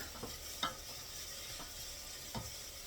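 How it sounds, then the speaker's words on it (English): Onions fry in a pan with a faint, steady sizzle, broken by a few soft scrapes of a spoon stirring them. "Let's stir our onions again."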